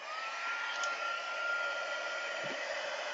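A heat tool blows hot air to emboss white flowers drawn in ink on a gel press craft project, a steady, close whooshing drone with a faint high whine, continuous throughout.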